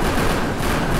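An enemy in the video game Death Skid Marks fires rapidly, producing a loud, dense, unbroken burst of gunfire that fills the whole second.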